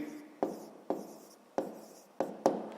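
A pen writes an answer on paper during a Grade 5 maths exercise, heard as five short scratchy strokes in a steady rhythm, each one trailing off quietly, close and alone.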